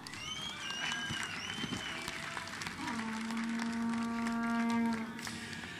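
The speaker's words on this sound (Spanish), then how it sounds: "Para todos, un fuerte aplauso." An audience applauds at an awards ceremony for technology and PC-modding challenges, a moderate, steady clapping with sustained tones running over it.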